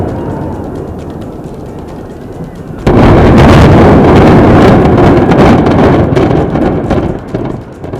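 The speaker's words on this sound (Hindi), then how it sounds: "यह बिल्डिंग आपके सामने देखते देखते विस्फोटों से भर जाएगी" A sudden loud blast erupts after a quieter rumbling stretch as explosives demolish a building, followed by sustained booming roar and crackling that slowly fades, with wind buffeting the microphone.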